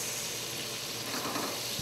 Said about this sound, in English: She's starting to sizzle now.